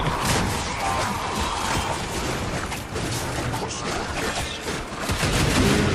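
Explosions in the video game Warframe blend into a dense, loud, continuous clatter of blasts and gunfire-like bursts that lasts the whole stretch without a pause.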